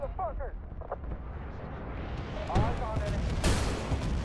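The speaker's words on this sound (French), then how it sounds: "Ça va partir en grenade là-haut, ça c'est sûr." A grenade blast in Battlefield: Bad Company 2 gameplay, heard as a couple of sharp, moderately loud bangs amid rumbling battle noise, with voices talking over the action.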